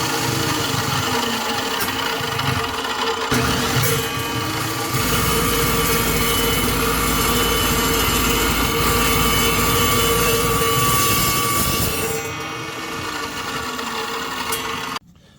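A power drill boring holes in pieces for a bike jig, a steady high whine with a loud continuous motor drone that shifts pitch as it bites, running close for most of the time before easing off near the end.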